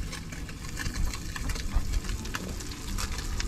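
Mackerel fillets frying in a pan with butter and garlic, a steady close sizzle and crackle with light clatter from stirring and turning, continuous and fairly loud.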